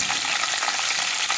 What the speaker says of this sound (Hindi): अब मैं इसके अंदर एक बारीक कटी हुई छोटी प्याज वो इसमें डाल देती हूँ